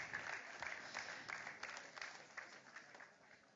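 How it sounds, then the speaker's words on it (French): Faint applause from a crowd at a sports awards ceremony, the Trophées des Champions 2024, a soft, steady patter of many hands clapping at a distance for a few seconds. "On peut les applaudir, ils sont absents."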